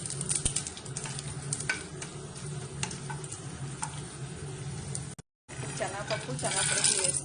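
Tempering seeds for gongura pulihora sizzle steadily in hot oil, with scattered clicks and stirring taps, a brief cut near the end and a louder crackle afterward; a voice is faintly present.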